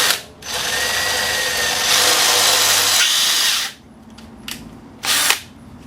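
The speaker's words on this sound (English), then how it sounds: "I'm now moving up to the next size drill bit" A power drill bores out holes in the exhaust pipe of a 2002 Harley-Davidson V-Rod VRSCA, whining loudly in two long sustained runs, then stopping and restarting in short bursts.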